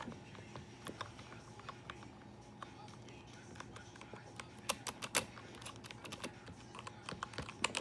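Keys clack steadily on a Black Shark gaming keyboard, a continuous run of close, crisp mechanical strokes with sharper accents scattered through, over a low room hum.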